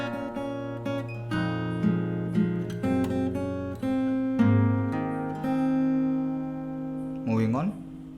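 Fingerstyle acoustic guitar playing a song, a steady stream of plucked notes and ringing open strings over sustained bass tones, close and alone with no talking.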